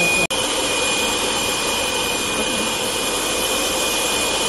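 A bottle air cleaning machine sucks dust from a bottle, giving a loud, continuous, even suction roar like a jet or vacuum that starts right after a brief click and runs unbroken.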